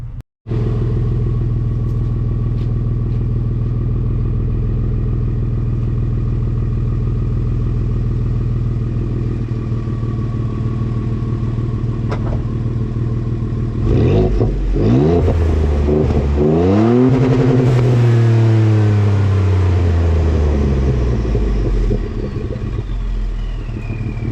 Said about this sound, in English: real deep tone, and then you can kind of hear the blow-offs, and then when you rev it up, it sounds pretty spicy